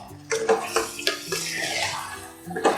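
Tomato puree thinned with a little water splashes into a pan of black chickpea and potato curry, a wet gurgling pour with a few clattering knocks.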